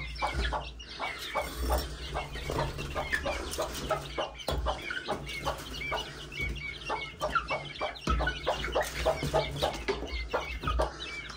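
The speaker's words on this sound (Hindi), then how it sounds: "ये देखिए हमारे चूजे माशाल्लाह से काफ़ी हद तक बड़े हो गए।" Young chickens at a home coop clucking and peeping in quick, irregular bursts, several birds close by, with brief gaps and no talk.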